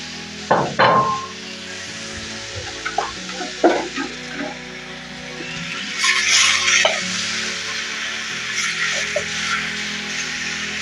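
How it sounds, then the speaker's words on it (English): Sukuma wiki greens drop into a pan of onions, with a few clanks and stirring knocks, then a soft steady sizzle that swells briefly midway, close and fairly quiet. "I'm just going to add my sukuma wiki."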